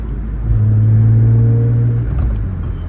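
A BMW E46 M3 with a manual gearbox accelerates, its engine note swelling in a loud, smooth rising drone that peaks and then eases off as the car pulls away.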